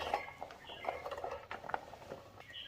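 Chopped raw mango pieces for a vinegar-free pickle being moved into another vessel, with soft clinks and patters of fruit and a utensil against the dish, close and fairly quiet.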